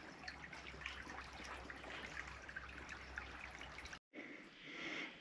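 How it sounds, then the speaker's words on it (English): A small babbling brook trickles steadily outdoors, a soft continuous wash of running water with a low rumble beneath, briefly cutting out near the end before resuming, with no voices. "Little babbling brook with a yogurt pot in."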